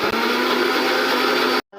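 A kitchen blender grinds a paste of garlic, onion, cumin and chilli, one loud steady whirring run of nearly two seconds that cuts off abruptly, then restarts briefly.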